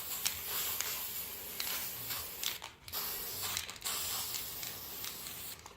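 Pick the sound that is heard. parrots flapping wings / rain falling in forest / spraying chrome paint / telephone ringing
spraying chrome paint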